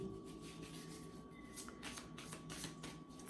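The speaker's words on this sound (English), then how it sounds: "So I'm gonna get shuffling" Oracle cards being shuffled by hand, a soft steady riffling and rubbing of card stock that runs close and quiet through the whole stretch, with no talking.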